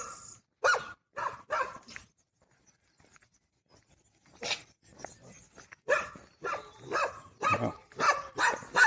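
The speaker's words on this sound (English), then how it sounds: "seems like a lot more dogs along this way" Several dogs bark repeatedly along a roadside, sharp loud barks in bursts with a quiet pause in the middle, then a denser run of barking near the end.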